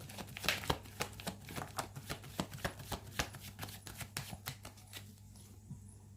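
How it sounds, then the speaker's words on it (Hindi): Tarot cards being shuffled by hand in a quick run of crisp riffling flicks and soft slaps, close and fairly quiet, fading to stillness near the end. "लास्ट शफल प्रभु जी, जो कार्ड्स देने आप दे दीजिएगा।"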